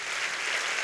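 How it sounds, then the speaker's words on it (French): A comedy show audience claps in a brief, dense burst of steady applause, even and fairly loud throughout, with no talking. "Vous pouvez les applaudir, vraiment."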